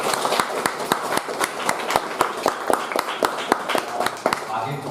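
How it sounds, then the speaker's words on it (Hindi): An audience at a Hindi book launch claps together in a fast, even rhythm, a steady run of sharp, evenly spaced claps filling the room and lasting several seconds. "एक बार जोरदार ताली"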